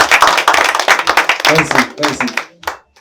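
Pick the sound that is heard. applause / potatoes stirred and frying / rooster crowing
applause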